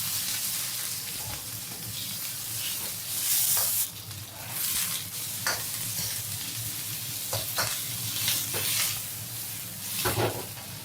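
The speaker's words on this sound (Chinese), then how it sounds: "把洋葱、青红黄椒依次倒入锅里煸炒" Onions and red, green and yellow bell peppers stir-fried in a wok with a little oil, a continuous loud sizzle broken by repeated scraping and tossing strokes, with no talking.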